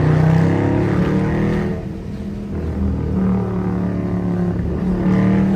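A 500-horsepower Jeep SRT drives in the rain and heads into a tunnel, its loud, deep engine rumbling steadily close by, dipping briefly midway and then swelling again, with no talking.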